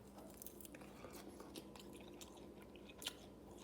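Close, quiet crunching and chewing of crispy pellet-grilled chicken wings, with several bites and one sharper crunch near the end.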